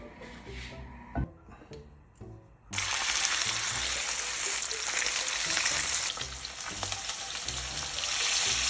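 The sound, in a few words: milkfish (bangus) steak frying in oil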